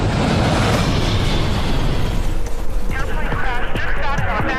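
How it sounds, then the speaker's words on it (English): A devastating explosion tears through a residential neighborhood east of Los Angeles in a reconstruction of the 1986 Cerritos mid-air collision, a loud, dense blast roar filling the whole clip and breaking into crackling debris and fire at the end. "a calm holiday weekend is shattered by a devastating explosion"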